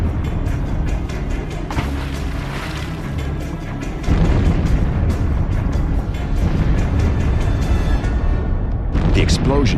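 Depth charges go off in the water near the submarine Nautilus, with a long rumbling roar that swells into a louder continuous churning boom midway, then another burst near the end.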